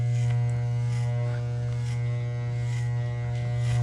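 An electric hair clipper used for a medium fade haircut in a barber shop gives a steady, loud, close buzz with an even hum and brief changes in tone as it moves through hair.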